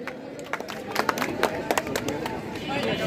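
At a pigeon club tournament prize-giving, a crowd gives a prize winner a short burst of scattered clapping amid murmured chatter and background voices.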